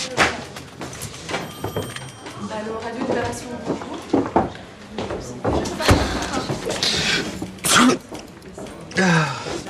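Someone sneezes once, sharply, in a period drama scene set in a ship's hold, among thumps and bangs like a door slamming, with people talking around it.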